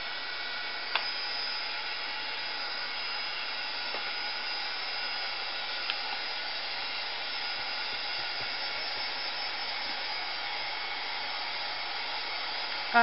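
A dryer blows air over a paper craft project, a steady, loud whooshing whir that runs unbroken for about thirteen seconds, with only a couple of tiny clicks along the way.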